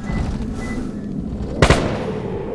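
A single sharp gunshot burst in the Roblox game, a short loud crack rising abruptly from a low rumbling background.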